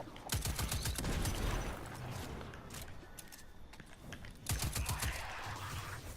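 A hand cannon fires in bursts of sharp repeated shots in the video game Destiny 2, heard close and loud in two clusters with a quieter stretch between them.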